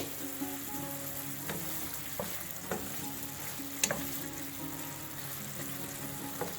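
Moringa cooking in a pan on a medium flame, a quiet, steady sizzle with occasional faint clinks and taps of utensils.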